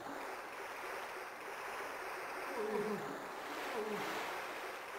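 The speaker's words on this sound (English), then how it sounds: "I'd like to see her try that in this diseased," Dirty sewer water flows in the 1998 Resident Evil 2 video game, a quiet, continuous trickling stream with slight swells partway through.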